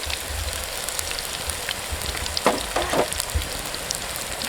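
Garlic and ginger paste sizzles steadily in a hot pan for a biryani, a close, dense frying crackle with a few louder spitting bursts partway through.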